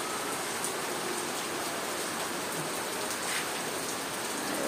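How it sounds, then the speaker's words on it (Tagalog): Steady rain pouring down on surfaces outdoors, a dense, even hiss of drops with no break, close and fairly loud, no voices. "Umulan na naman, ngayon lang."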